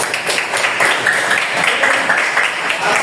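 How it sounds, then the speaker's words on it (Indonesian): Primary school pupils in a classroom clap together in a brisk, fairly close burst of applause for everyone, continuing steadily for a few seconds, with faint voices mixed in. "Tepuk tangan buat semua"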